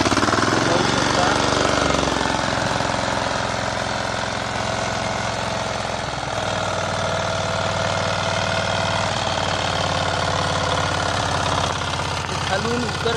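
Self-starting farm machine used for turmeric farming runs with a loud, rough, knocking engine drone that stays steady and close for the whole stretch, with someone talking over it.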